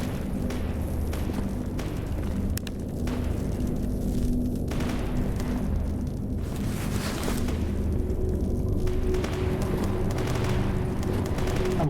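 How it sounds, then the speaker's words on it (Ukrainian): Gunfire rattles in S.T.A.L.K.E.R. 2: Heart of Chornobyl, with dense bursts and scattered shots over a constant loud rumble, going on without pause for the whole stretch. "Там хтось стріляється по-дикому."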